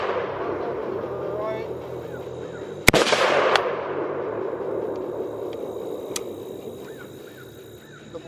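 Gunfire at an outdoor shooting spot where a red dot sight is in use: one sharp, loud crack, then a second shot just after it. A fainter report follows later, with a distant bird in the background.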